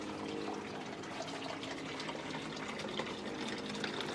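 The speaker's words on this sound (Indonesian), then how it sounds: "Kita buka pompa 1, pompa 2, pompa 3. Nah, air akan masuk melalui sini." Water gushes steadily into a home fish pond biofilter as three pumps are switched on, a continuous close rushing flow with no pauses.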